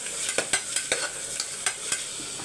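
A spatula scrapes and taps rhythmically in a pan, stirring tomatoes with ginger-garlic paste. About nine quick, crisp strokes sound over a faint sizzle.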